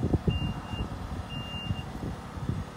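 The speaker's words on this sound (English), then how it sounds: "Closing the boot." A used Mitsubishi's power boot closes with warning beeps, two short high beeps, a pause, then two more, over a low rumble.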